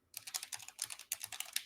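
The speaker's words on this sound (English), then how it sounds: "You're gonna listen to me typing." Fast, uneven keystrokes on a computer keyboard, close and fairly quiet, clattering steadily for under two seconds with no voices.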